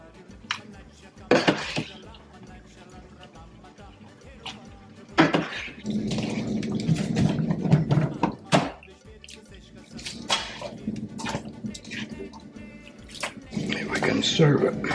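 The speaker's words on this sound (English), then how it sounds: "We'll scoop it up and strain." Penne for a broccoli and sausage dish is scooped and strained, with clinking metal on a pot, splashes and dripping, and water trickling off in bursts, while people talk nearby.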